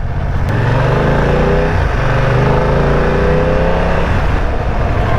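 A BMW F900R motorcycle engine revs and accelerates up close, its pitch climbing in smooth sweeps and staying loud for the whole stretch.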